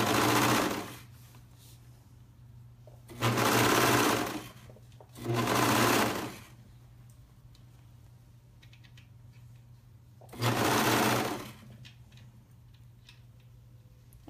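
Sewing machine stitching a pullover seam, three bursts of rapid, steady mechanical whirring a few seconds apart, fairly close and loud, with a constant low hum between runs and no talk.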